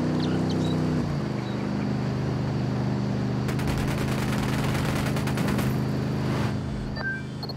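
Rapid gunfire in the video game Ghost Recon Wildlands, a burst of automatic shots rattling midway over a steady low engine drone.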